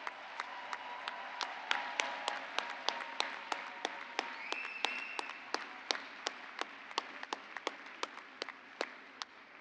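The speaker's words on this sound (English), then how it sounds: "Please give them a round of applause." An audience at a 2021 College of Social & Behavioral Sciences graduate convocation applauds the master's graduates, a steady spread of claps from a sizable crowd, moderately distant and continuing throughout with no talk.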